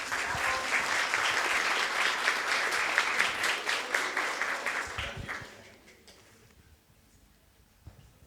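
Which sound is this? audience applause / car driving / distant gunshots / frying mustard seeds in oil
audience applause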